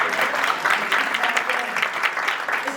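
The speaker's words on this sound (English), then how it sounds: "You can clap for that" An audience claps steadily for a few seconds, dense applause at even loudness with a voice speaking over it.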